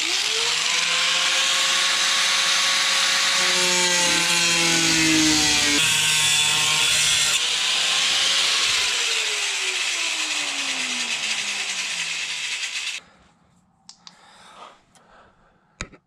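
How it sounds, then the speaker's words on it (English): Wire wheel on a grinder scours rusty metal on a 1988 Ford Bronco II, a loud continuous whine with shifting pitch as it bites the steel, running for about thirteen seconds before cutting off, followed by quiet handling noises. "But this right here, we'll clean up with the wire wheel."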